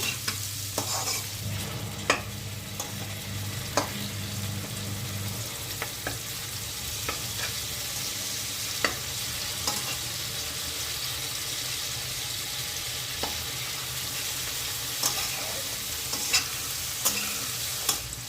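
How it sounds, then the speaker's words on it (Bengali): Onion, tomato and green chili fry in hot oil in a pan. A steady sizzle runs throughout, with stirring scrapes and clicks recurring every few seconds, and no voices. "পেঁয়াজ টমেটো কাঁচা লঙ্কা ভালোভাবে তেলে ভেজে নিচ্ছি"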